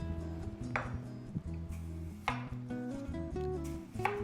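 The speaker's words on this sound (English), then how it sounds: "take a few slices of that apple, cut it to slivers" A knife slices a Fuji apple into thin slivers on a cutting board, with three crisp cuts spaced apart over steady background music.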